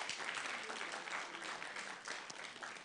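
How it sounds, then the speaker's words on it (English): Audience applause for student mooters at a moot court competition final, a continuous, fairly faint patter of many hands clapping together without pause. "A round of applause to our mooters."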